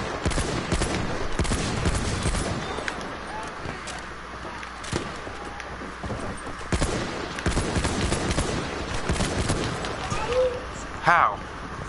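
Video game battle with artillery and gunfire crackling steadily throughout, dense bursts and booms layered under frequent voices talking.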